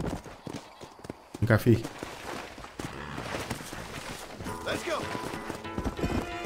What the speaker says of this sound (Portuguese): Vou chamar o cavalo aqui.